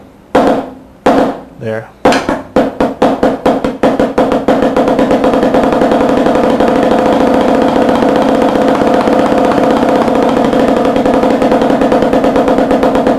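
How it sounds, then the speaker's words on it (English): Sticks play double strokes on a drum, first as a few slow, separate bounced pairs, then speeding up into a fast, continuous, even roll that holds at full volume; a voice briefly speaks near the start. "With the double stroke, you have the whipping action coming"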